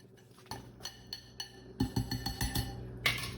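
Chopped tomato being mixed into egg in a bowl, heard as a run of light clinks and taps of a utensil against the bowl, irregular and close, with brief wet scraping.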